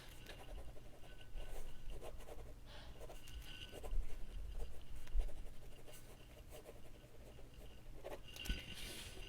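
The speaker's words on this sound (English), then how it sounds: "Write down your results there." A pen scratches and scribbles on paper in quiet close-up, soft irregular strokes and faint rubbing continuing steadily without talk.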